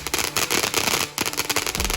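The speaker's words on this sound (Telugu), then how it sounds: "ఇలా మా బ్యాక్ యార్డ్లో క్రాకర్స్ బర్న్ చేసాము" Firecrackers set off in a family backyard during Diwali celebrations, a dense run of loud crackling bursts and pops packed close together, with a brief lull midway before the crackle resumes.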